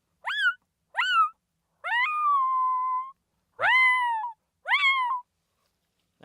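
A diaphragm predator call mimics a cat's yowling meows in a series of five short, close, clear cries, one drawn out longer than the rest, separated by silence.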